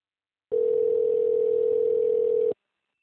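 A steady single-pitch telephone tone sounds for about two seconds, clean and constant, then stops abruptly, with silence before and after.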